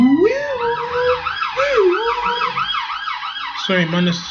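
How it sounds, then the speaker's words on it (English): Loud wailing police sirens rising and falling, at least two overlapping as the vehicles pass close by outside. "sorry about the police cars"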